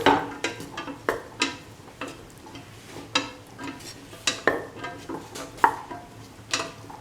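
Salt is stirred into cauliflower in a pan with a spoon, making a run of rhythmic scrapes and clacks against the metal about twice a second over a faint sizzle.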